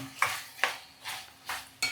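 Brinjal pieces are stirred in a pan of hot tempering, a spoon scraping in five quick, close strokes with faint sizzling between them, quiet and free of talk.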